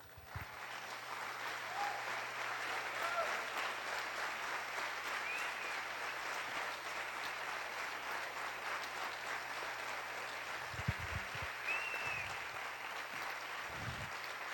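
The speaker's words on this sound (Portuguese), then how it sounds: "Palmas para Jesus." A church congregation applauds at an evening worship service, sustained dense clapping from a crowd that holds steady throughout, with faint voices and low thumps underneath.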